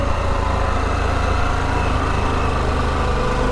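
A 2022 Harley-Davidson Pan America motorcycle engine runs with a harsh, clattery mechanical note: a dense, continuous engine drone, loud and close, with no break and no talk over it.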